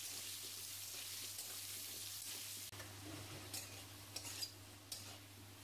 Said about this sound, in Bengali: এবার নুন আর হলুদ দিয়ে আমি ভালো করে লাল লাল করে ভেজে নেব।